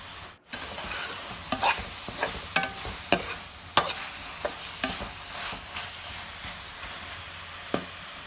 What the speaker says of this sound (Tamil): லாஸ்ட்டாக வந்து முருங்கீரையை போட்டு இந்த மாதிரி நல்லா வதக்கிக்கோங்க